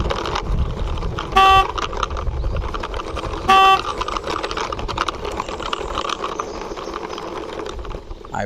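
A toy Raptor bike driven along, giving a steady whirring, rattling motor noise throughout with two short horn-like beeps early on.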